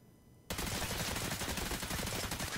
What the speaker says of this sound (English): Just showing some slow motion shooting.